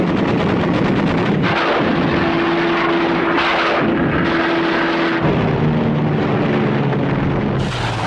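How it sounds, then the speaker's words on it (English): World War II American fighter planes strafing targets over Japan: loud, dense bursts of gunfire and impacts over a steady droning aircraft roar, sustained and harsh throughout. "American fighters now roamed freely over Japan, shooting up military targets and transport links at will."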